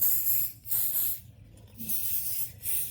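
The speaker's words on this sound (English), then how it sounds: "So I want you to go ahead and pulse when you are spraying." Short hissing bursts of hairspray over a velcro roller set, about four pulses in a row, close and fairly loud, separated by brief pauses.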